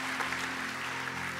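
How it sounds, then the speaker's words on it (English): A church congregation applauds in a steady, dense wash of clapping with a low hum underneath, no voices over it. "Journey, can we give them a round of applause for all those that raised their hands?"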